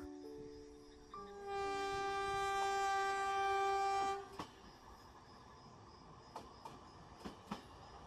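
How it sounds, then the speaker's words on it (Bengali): A train pulls out of a station, with a sustained horn blast of several seconds followed by sharp clanks and knocks of the cars moving off, heard without talk. "ট্রেন ছেড়ে দিল।"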